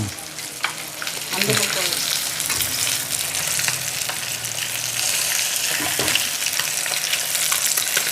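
Waval fish sizzles loudly in hot oil, close by, in a steady crackling hiss as two ladles scrape and turn the large fish, with a few metallic knocks and brief voices in the background.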